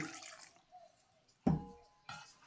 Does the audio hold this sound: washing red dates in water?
yes